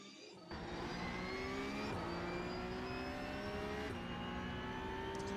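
A Porsche 992 Cup car in the iRacing game accelerates in second gear at Bathurst's Mount Panorama, the engine note rising steadily and loud, with quick upshifts marked by brief dips before the pitch climbs again.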